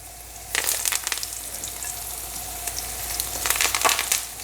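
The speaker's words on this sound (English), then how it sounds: "once we drop the fish in the oil, it's going to cool it a little bit" Loud, bubbling sizzle of fish frying in hot oil, with bursts of crackling and spitting that swell and fade throughout.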